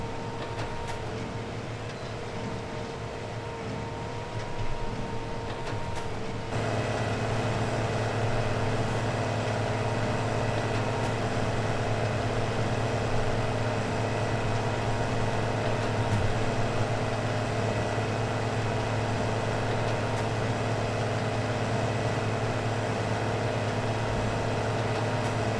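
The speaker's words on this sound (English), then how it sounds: "It can maintain about 13 or 14 miles per hour uphill while powering the baler." A powerful tractor engine in Farming Simulator 2015 pulls a baler uphill, giving a steady, loud mechanical drone with a constant hum that thickens slightly early on and then holds unchanged to the end.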